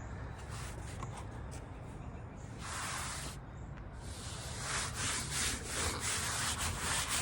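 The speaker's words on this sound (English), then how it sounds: "I'm gouging it and I'm roughing it up to try to create a hand carved kind of look" Hand gouging and roughing up pallet wood to give a rustic plant table a hand-carved look: steady scraping, rasping strokes in uneven bursts, close and fairly loud, with no talking.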